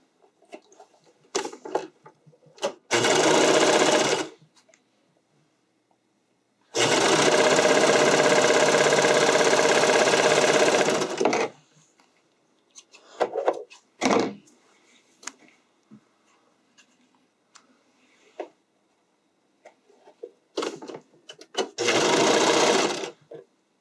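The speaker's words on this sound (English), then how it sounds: "Let's sew the side seams." A sewing machine stitches the side seams of a skirt for a skating dress in bursts of fast, close mechanical whirring, a long run in the middle and shorter runs at either end, separated by quiet handling clicks.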